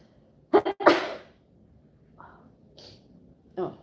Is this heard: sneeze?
yes